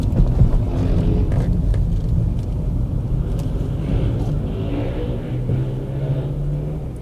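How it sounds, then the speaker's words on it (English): A steady low rumble of a cheap used Jaguar on the move, with a droning drivetrain hum underneath and some wind buffeting, no talking. "There's a bit of a hum there actually."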